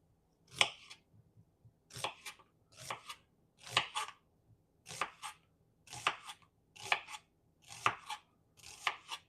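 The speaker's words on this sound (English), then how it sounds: "I'm just slicing my onions here" A knife slices through onions on a cutting board in about ten evenly spaced, crisp chopping strokes, close and clear against a quiet background, with no talking.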